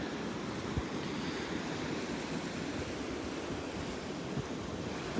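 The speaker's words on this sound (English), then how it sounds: "These waves are messing me up." Ocean waves wash steadily onto a beach at Delnor-Wiggins, a soft, continuous rushing surf with some wind noise and no talking.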